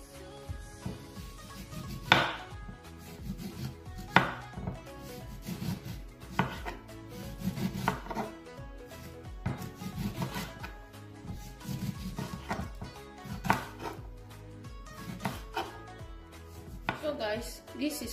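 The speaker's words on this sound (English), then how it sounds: "This is my lime and I'm going to slice it." A knife slices through a lime on a cutting board in a series of separate chopping knocks, some louder than others, with quiet handling noises in between.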